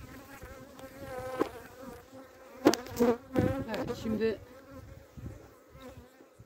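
Honey bees at an open two-story hive give off a steady, close buzzing as someone talks over it.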